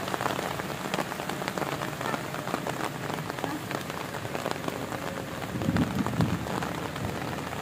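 Heavy rain falls steadily, a dense hiss of drops on surfaces at a beachside spot where chicken is being grilled outdoors, with a brief low rumble partway through and no talk.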